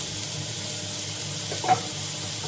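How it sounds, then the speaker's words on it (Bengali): Thin-sliced onions frying in leftover oil from frying prawns give a soft, steady sizzle at moderate volume, with one brief scrape or clink near the end and no talk. "এখন ওই মাছ ভাজার তেলেই সরু সরু করে যে পেঁয়াজগুলো কাটা হয়েছিল সেগুলোকে ভেজে নেওয়া হচ্ছে"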